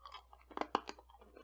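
Hard, toffee-like candy, similar to sun-softened Werther's, is crunched between the teeth in a handful of sharp, close bites and cracks, followed by quieter chewing.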